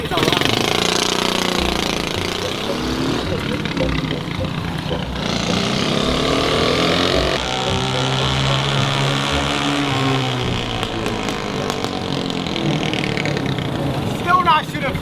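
Vehicle engine idling and revving with its catalytic converter deleted, a loud raw rumbling exhaust that swells and falls close by, with people talking over it.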